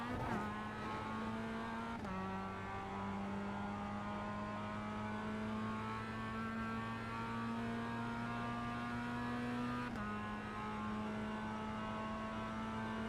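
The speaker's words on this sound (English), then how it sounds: "pretty much a drag race now to the finish line for the end of the race" Race car engines in the iRacing racing game roar steadily at high revs, with two sharp gear shifts dropping the pitch before it climbs again, loud and continuous with no talk.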